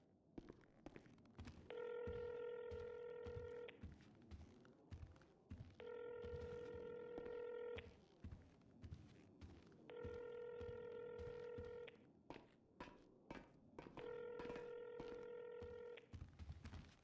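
Telephone tones sound in four evenly spaced bursts of about two seconds each, steady and harmonic, with quiet room noise and scattered knocks between them and no voices.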